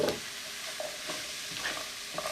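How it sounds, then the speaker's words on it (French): Wooden spoon stirring chickpeas in a pan with curry and leeks, soft scraping strokes over a light steady sizzle, close and alone. "un tour de cuillère en bois"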